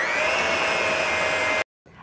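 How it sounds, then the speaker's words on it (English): An electric mixer on low speed creams butter and light brown sugar, a steady close whirring hum that runs continuously and then cuts off abruptly. "So I'm going to use an electric mixer, and I'll just use low speed for now."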